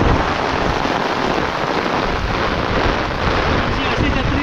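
Steady, dense hiss of rain falling, a loud continuous wash with no pauses, used as a story sound effect.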